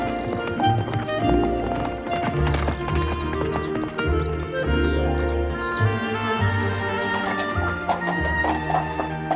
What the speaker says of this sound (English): Jolly good horse.